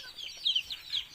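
A turkey gobbling near backyard chicken coops, a few quick high warbling calls, faint and somewhat distant in a quiet setting.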